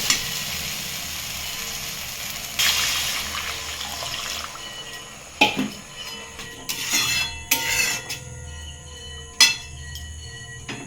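Water poured into a pan of dal and spices gives a steady rushing hiss, followed by clanks and scraping of a utensil against the pan.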